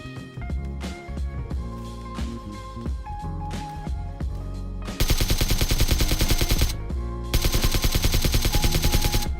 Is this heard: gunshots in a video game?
yes